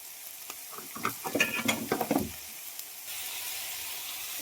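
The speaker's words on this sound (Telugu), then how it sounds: "ఒక సైడ్ వచ్చేసి దొండకాయ ఫ్రై చేస్తున్నా" Ivy gourd (dondakaya) fries in a pan under a soft, steady sizzle, while a short burst of spatula stirring and scraping rises in the middle and then fades back to the quiet hiss of the oil.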